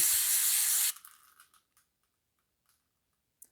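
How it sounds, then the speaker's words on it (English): Brake cleaner sprays from an aerosol can onto a car engine check valve in one loud, continuous hiss lasting just under a second. A few faint clicks and light knocks follow in near silence. "I'm going to give the check valve a good clean with the brake clean from the outside and the inside"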